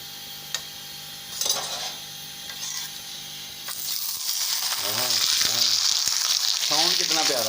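An aloo paratha frying in homemade desi ghee made from cream sizzles softly at first, then swells into a louder, dense crackle after a few seconds, with faint clicks and no talk.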